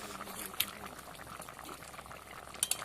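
A thin curry of magur fish and ridge gourd simmers in a pot, giving a steady, soft bubbling with a few brief sharper pops, heard close by and fairly quiet.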